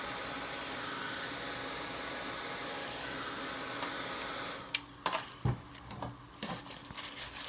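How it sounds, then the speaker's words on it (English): A heat tool blows a steady, even whir while drying craft paint, holding constant for about five seconds before it stops, followed by a few sharp clicks and handling knocks close by. "I'll just dry it up just a little bit with my heat tool."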